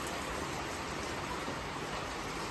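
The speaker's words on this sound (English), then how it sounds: "It's raining." Heavy rain falls at a railway station, a dense, steady wash of hiss without pause or voices.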